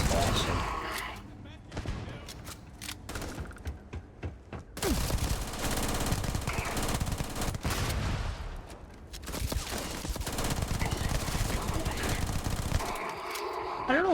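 The PDW 27 in Starfield fires long full-auto bursts, rapid loud rattling shots in sustained strings with short pauses between them, while someone talks over parts of the firing.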